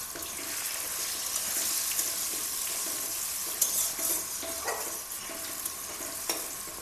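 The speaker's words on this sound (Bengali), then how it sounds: "এখন একটু নেড়ে দিচ্ছি।" Potatoes being stirred as they fry in a pan during Bengali village-style cooking of a banana flower dish, a steady close sizzle with scraping and stirring clatter and a few sharper knocks, no talk.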